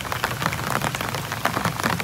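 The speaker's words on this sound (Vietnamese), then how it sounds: "Từ sáng tới giờ thủ đô Hà Nội vẫn mưa." Steady, heavy rain falls in Hanoi during Red River flooding, a close, continuous wash of drops pattering on surfaces with no voices.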